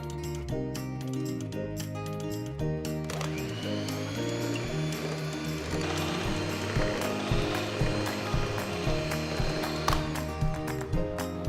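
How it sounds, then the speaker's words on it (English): An electric mixer beats cake batter for a Christmas cake, a loud continuous mechanical whir with rattling, ratcheting pulses that grow busier and more uneven midway. "So beat the batter nicely till it's nice and creamy."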